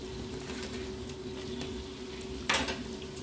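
Onion and capsicum pieces are stirred in a pan for a Chinese chicken and cauliflower dish, with a steady low kitchen hum, light scraping, and one louder clatter of a utensil near the end.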